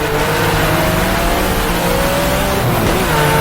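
A Porsche RSR 74 race car engine in a racing simulator game roars loud and constant as it accelerates down a straightaway, with the engine tone climbing steadily.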